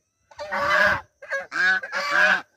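Ducks in a village give three loud, nasal, honking calls close by: one longer call followed after a short pause by two more in quick succession, with silence around them.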